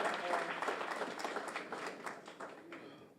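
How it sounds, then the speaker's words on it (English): Applause from the audience at a spring nursing graduation ceremony, a dense steady patter of many hands clapping that fades slightly toward the end. "Let us give her another big round of applause,"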